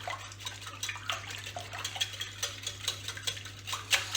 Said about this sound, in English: let's get that milk in with the eggs, and let's beat this together